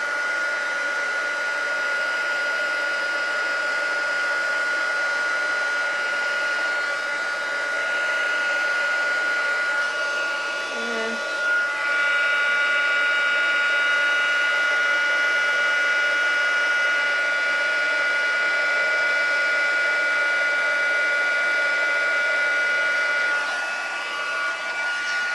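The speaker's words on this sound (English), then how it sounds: "Just be careful with the heat gun as it gets very hot on your fingers." A heat gun melts gold embossing powder with a steady, airy blowing whine that runs nearly unchanged for the whole stretch, close and even, with a few faint handling noises.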